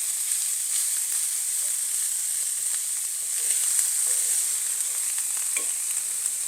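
Meat sizzles in a skillet, a steady bright frying hiss with occasional small crackles and stirring scrapes, moderately loud and close, with no voices.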